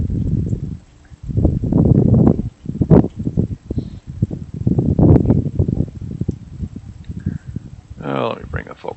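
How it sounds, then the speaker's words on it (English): Wind at the Northern Cross Observatory buffets the microphone in loud, low, rumbling gusts outdoors, nearly continuous with brief lulls, and a person talks now and then underneath. "you can hear the wind"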